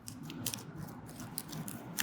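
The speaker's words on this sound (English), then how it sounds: "And then just cut it open with scissors that cut." Scissors snip open a plastic piping bag for cupcake decorating, a series of faint, crisp cuts and rustles at close range in a quiet room.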